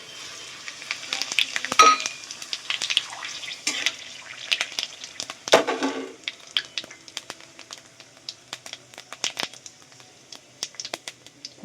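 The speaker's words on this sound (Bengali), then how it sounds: "ফোড়নটা ভাজা হয়ে গেছে" Whole cumin, bay leaves and dried chillies tempering in hot oil for a vegetarian ghugni, heard as close, irregular crackles and sputtering pops that burst louder in spots and then thin into scattered spits.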